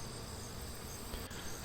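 Honey bees clustered around a queen that is not their own, drawn by her pheromone before being hived, give off a faint, steady, continuous buzzing with no break.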